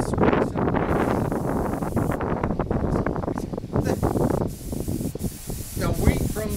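Aerosol spray paint applied in white to small Honda NS 250 motorcycle parts during a restoration, loud hissing sprays in short bursts and longer passes, close up, with wind buffeting the microphone and a voice talking over it.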